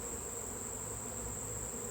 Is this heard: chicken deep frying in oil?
no